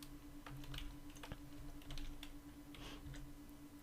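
Keys tapped on a computer keyboard while typing into a Linux search field, a quick irregular run of close clicks over a steady low electrical hum.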